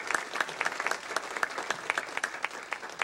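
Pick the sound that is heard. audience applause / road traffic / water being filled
audience applause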